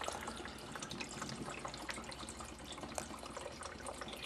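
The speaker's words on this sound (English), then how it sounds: "You hear it sucking all the water from the tank." Rena XP1 canister aquarium filter drawing water out of a fish tank, a steady broadband rush of flowing, gurgling water with small drips and bubbles, close and continuous throughout.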